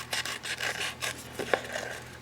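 Scissors trimming around a rub-on transfer sheet, close-up with short rough snipping and rubbing strokes in an uneven rhythm, no talking.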